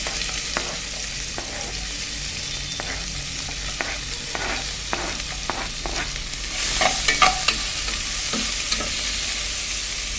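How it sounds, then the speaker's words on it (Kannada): Chopped onions for Goan sausage pulao fry in hot oil in a pan, a steady close sizzle broken by repeated scraping stirs, with the frying growing louder and brighter toward the end. "ಈಗ ಈರುಳ್ಳಿಯನ್ನು ಸೇರಿಸಿಕೊಳ್ಳೋಣ."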